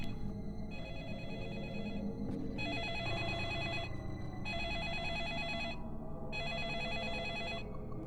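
A telephone rings in the video game Deadly Premonition, a steady repeating electronic ring in regular bursts with short gaps, moderately loud over a low ambient game background and no talk.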